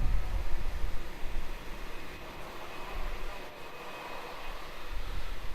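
A Velocity airliner, flight 845, taking off from runway 34 at Melbourne Airport: a steady, broad roaring jet engine rumble heard from a distance, continuous and moderately loud with slight swells.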